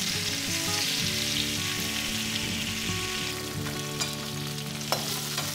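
Pieces of pointed gourd (potol) fry in hot oil before any salt is added, giving a steady, close sizzle with occasional clicks and scrapes from stirring.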